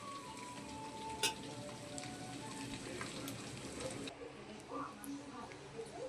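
Vegetarian mixed vegetable fried rice is being stir-fried in a pan, giving a faint, steady sizzle with occasional scrapes and clinks of stirring, while a voice talks softly.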